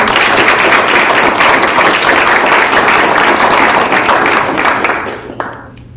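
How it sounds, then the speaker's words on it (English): Audience applause at a city council meeting, loud sustained clapping from a full room that fades out near the end, leaving quiet room tone. "One more round of applause for us."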